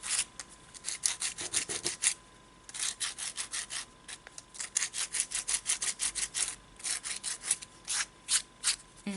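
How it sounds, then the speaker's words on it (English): Sandpaper rubbed over the edges of a dried air dry clay jewelry dish makes soft, close scratchy strokes in a quick, steady rhythm, repeating throughout with one brief pause. "I will use a piece of sandpaper to make sure that the edges are"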